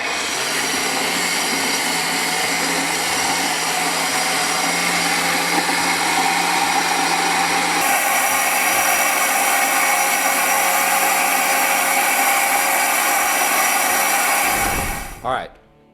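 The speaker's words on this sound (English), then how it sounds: "we're going to blend it up a little bit. All right, let's check it out. The Immersion Blender 2000." Immersion blender whirring through fermented Texas Big Yellow hot sauce, a loud steady motor drone lasting about fifteen seconds with a slight shift in pitch midway, then cutting off abruptly.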